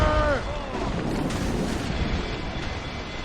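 Ship cannons fire in a naval battle in the video game Assassin's Creed Rogue, a dense, booming barrage that stays loud for the full stretch, with a brief tonal sweep at the start and a voice mixed in.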